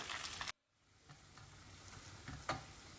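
Spinach dropped into a pan of melted butter and garlic, giving a soft, faint sizzle with light stirring scrapes after a sudden cut in the sound.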